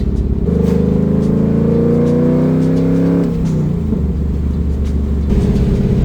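Pontiac Trans Am WS6 with a 6-speed manual, cruising with the T-tops open: a steady, loud engine drone rises smoothly under acceleration, dips through a gear change, then settles into a low rumble, with no talk.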